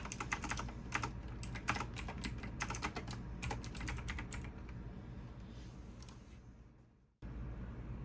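Fingers type a folder name on a computer keyboard in quick bursts of close, crisp key clicks, slowing and fading before a short pause and a faint hum.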